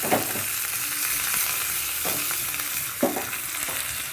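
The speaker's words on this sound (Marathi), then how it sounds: "तडक्यासाठी तेल तापून घेतलं आहे, त्यामध्ये मोहरी घालूया, हिंग, जिरे, हिंग," Mustard seeds, cumin and asafoetida sizzle and crackle steadily in hot oil for a tempering, close and continuous, with a few louder pops and stirring scrapes.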